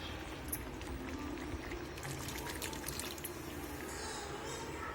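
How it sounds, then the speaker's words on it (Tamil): Ground coconut paste is poured into a pot of boiling curry, giving a steady wet pouring and bubbling sound that runs close and continuous, with soft kitchen noise around it. "இப்போ நல்லா குழம்பு கொதிச்சிச்சு. தேங்காய் ஊற்றிக்கலாம்."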